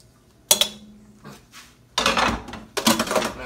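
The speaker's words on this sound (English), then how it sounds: "we're going to add the beef back to this. All that meat back into this." Beef stew meat is tipped back into a cooking pot, with a sharp metal clank, softer scraping and then two longer bursts of clattering and sliding in the pan, close and fairly loud.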